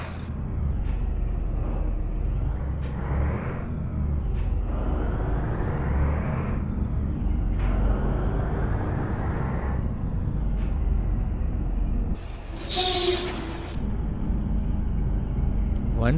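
A Scania R2009 truck pulls a trailer in Euro Truck Simulator 2, its engine droning steadily with repeated sharp clicks and a loud air-brake hiss near the end.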